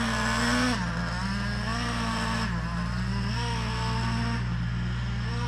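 Traxxas Revo 3.3 nitro RC engine running during break-in: a close, steady high-pitched buzzing whine that holds near one pitch, wavers slightly and rises briefly at times, with no talk.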